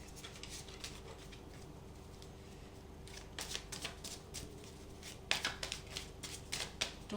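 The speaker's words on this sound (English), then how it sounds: "Two more shuffles and we will have the spread of cards for you." Tarot cards shuffled by hand during a reading, quiet at first, then louder bursts of riffling and slapping toward the end.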